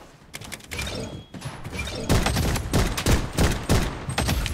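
Loud, rapid Desert Eagle pistol shots in the Blood Strike shooter game, the sharp cracks piling into dense bursts with mechanical clatter, growing heavier in the second half.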